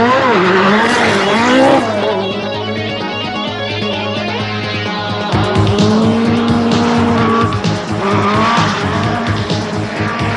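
A Peugeot 205 Turbo 16 rally car roars close by at full throttle, engine pitch rising and falling as the tires squeal and skid, loud and sustained throughout.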